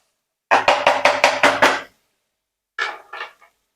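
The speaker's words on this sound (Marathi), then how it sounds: "जर आपण पावभाजीचा स्मॅशर असतो त्याने स्मॅश करायचे आपल्याला हे एकजीव करून घ्यायचे" A pav bhaji masher pounds onion and masala in a pan for an egg gravy dish, six quick rhythmic thuds with a metallic clatter, then a pause and two or three more strikes, close and fairly loud.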